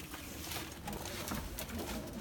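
Pigeons cooing close by in a coop with chicks, soft repeated throaty calls over a rustling, noisy background.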